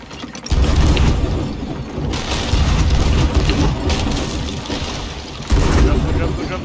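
Cannon fire in the pirate ship game Sea of Thieves, heavy booming blasts launching chain shot with mechanical clatter, loud and continuous in a dense battle mix with surges near the start, middle and end.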